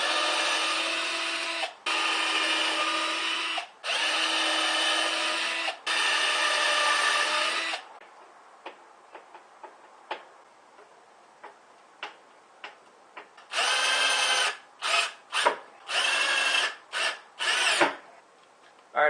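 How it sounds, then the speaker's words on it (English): A power drill drives 1-inch screws into the back of a homemade solar panel in several long, loud bursts, then a pause with faint ticks, then a quick flurry of short whirring pulses, all heard close with no talking. "I got the corners drilled now and screwed in"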